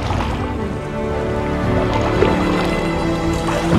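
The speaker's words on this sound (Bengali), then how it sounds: "একটা নৌকা পেলাম, নৌকাটা চালাচ্ছি।" A large wooden rowing boat moves on a river, giving a constant close wash of water and hull noise, dense and fairly loud, with no voices over it.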